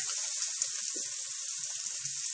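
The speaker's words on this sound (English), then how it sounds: "We're just going to sear these sides for a minute here." Pork loin sears in a hot pan, a steady close hiss and sizzle with faint crackles and small pops throughout, no talking.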